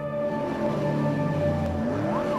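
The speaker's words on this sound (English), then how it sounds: "The sound of motors revving. Tires screeching as it flees the scene." A steady car engine drone with rising and falling pitch as it revs, with a thin tire-screech whine sliding upward near the end.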